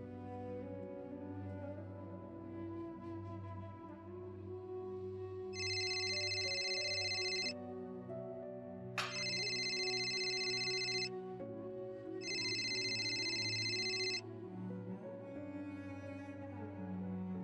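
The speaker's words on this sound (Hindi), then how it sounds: "नीलू को फोन करके पूछती हूँ।" A telephone rings in a Pakistani drama scene, three evenly spaced ring bursts sounding over a steady background music score while a call is placed.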